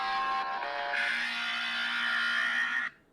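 Fire station alert tone, an electronic buzzer that sounds loud and steady, with its pitch stepping through a couple of changes before it cuts off sharply, heard alone without any voices.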